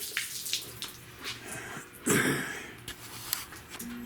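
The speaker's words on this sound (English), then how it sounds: "But when I pour that water on there, that's going to tell me." Water poured onto a car dashboard pad being prepped before dyeing, a short splashing pour in the middle between quieter handling noises.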